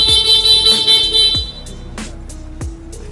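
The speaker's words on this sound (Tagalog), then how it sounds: "Busina natin sir." Horn of a 2024 Vespa Primavera scooter, heard as a loud, bright buzzing honk held for about a second and a half, followed by a few softer clicks and taps close by, no talk.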